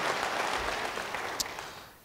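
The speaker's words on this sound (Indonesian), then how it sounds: "beri tepuk tangan yang baik bagi dia" A congregation at a prayer gathering gives a round of applause, heard as a diffuse, fairly distant wash of clapping that carries on evenly.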